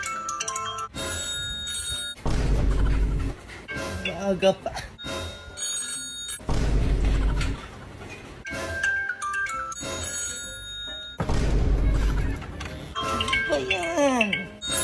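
A telephone-style alarm ringtone repeats in several bursts, loud and close, with people talking in between the rings.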